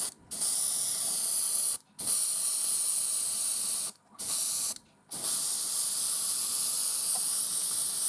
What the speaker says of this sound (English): And spray the model nice and even all over.